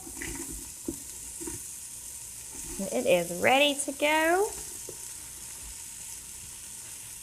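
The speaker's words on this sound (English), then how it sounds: "But you can hear that sizzle." Steady hiss of vegetables frying in a hot pan runs throughout, while a person briefly speaks over it.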